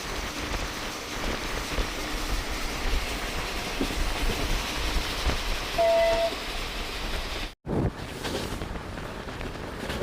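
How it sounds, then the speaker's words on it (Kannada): A passenger train runs on the tracks past Hirehalli railway station at sunrise, a dense, steady hiss and rumble heard from inside the coach, broken by one brief dropout near the end. "ನಮ್ಮ ಟ್ರೈನ್ ಈಗ ಹಿರೇಹಳ್ಳಿ ರೈಲ್ವೆ ಸ್ಟೇಷನ್ನ ಸ್ಕಿಪ್ ಮಾಡ್ತಿದೆ"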